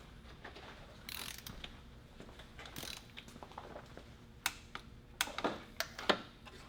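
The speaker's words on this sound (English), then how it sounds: "then I'm going to get my torque wrench, and I'm going to torque them to spec" A torque wrench tightening spark plugs to 20 newton metres on a VW Mk4 R32 engine gives soft ratcheting clicks, sparse at first and then sharper and quicker toward the end, close and fairly quiet with no talk.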